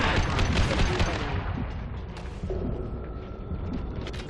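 Dense, rapid gunfire crackles loudly in a Mass Effect 2 firefight, a sustained burst that thins toward the end with mechanical clatter, close and dominant.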